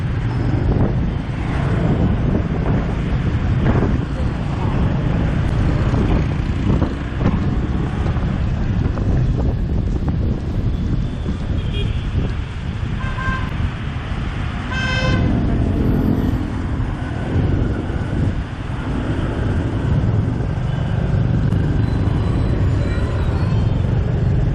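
Motorbike and car traffic on a busy Hanoi street heard from the back of a ride-hailing motorbike, with steady engine rumble and wind buffeting the microphone, and a short horn toot partway through.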